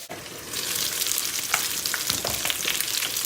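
Lamb chops fry in a pan with a dense, close crackling sizzle and scattered pops and stirring clinks, rising after a brief quiet start.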